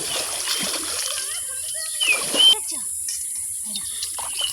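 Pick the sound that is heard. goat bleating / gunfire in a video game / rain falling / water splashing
water splashing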